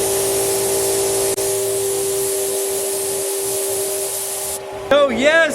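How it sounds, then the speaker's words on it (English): Sanding out a paint sag on a 3rd-generation Camaro being painted at home: steady rubbing, abrasive hiss runs continuously, then a brief burst of other noise at the end. "sanding out"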